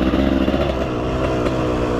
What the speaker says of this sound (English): We'll let the bike warm up a little bit.